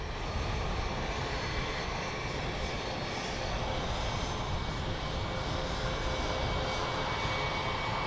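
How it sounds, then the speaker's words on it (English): An arriving aircraft at London Luton Airport gives a continuous, loud engine roar that holds steady throughout with no pauses. "We'll pan around for the arriving aircraft."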